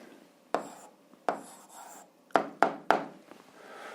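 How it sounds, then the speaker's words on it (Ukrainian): Handwriting an answer with pen on paper: several quiet, short scratchy strokes in irregular bursts, close and alone with no talk. "Ну що ж, записуємо відповідь, пишемо відповідь."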